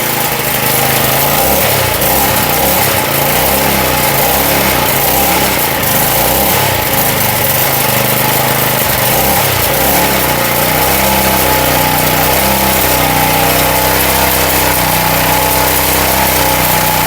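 A Powermate lawn edger engine with a fuel leak runs loud and close, a steady high-pitched small-engine drone with a slight wavering in its pitch throughout.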